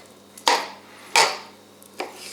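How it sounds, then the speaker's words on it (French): Three sharp knife chops on a cutting board, cutting meat into smaller pieces for a rustic country pâté, spaced evenly and close by, with no talk. "on coupe en plus petits morceaux"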